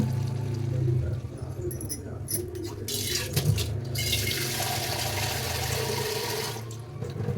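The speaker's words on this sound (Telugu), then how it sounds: "చింతపండు వాటర్ అయితే వేస్తున్నాను అనమాట." Tamarind water poured into a pot of sambar at home, a steady close splashing pour that runs for several seconds with small clinks, over low background noise.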